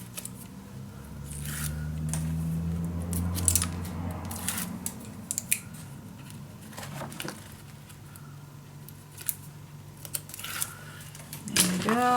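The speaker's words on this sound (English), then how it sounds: "I am going to peel off all these strips" Adhesive strips are peeled away one by one while assembling a pizza-box mini album cover, giving short crisp ripping and crackling bursts scattered across the clip, with a faint hum underneath and a few rustles between peels.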